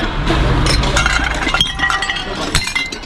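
Glass clinks and breaks among items in a dumpster, with several sharp, close crashes and tinkling shards over a steady background rumble.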